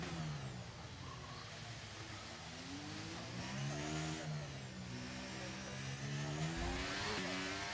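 A Formula 1 car engine in the F1 23 racing game at Monaco, rising and falling in pitch as it revs and accelerates through gears, steady and loud throughout with no talk.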